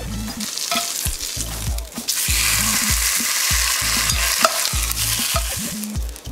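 Fatty pork skin rubbed across a hot pan to grease it for carnitas, a loud close sizzle with rhythmic scraping strokes and bumps against the pan repeating throughout, with no talking.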